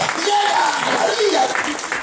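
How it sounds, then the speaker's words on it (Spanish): A church congregation applauds in a dense, steady wash of clapping that fills the space, with a voice faintly over it. "Fuerte ese aplauso al Señor Todopoderoso"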